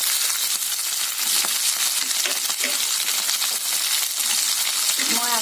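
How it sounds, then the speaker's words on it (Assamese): Long beans and carrots tossed into a hot frying pan, giving a steady bright sizzle with crackling pops and scattered clinks throughout. "এতিয়া মই লেচেৰাখিনি আৰু গাজৰখিনি দি দিম।"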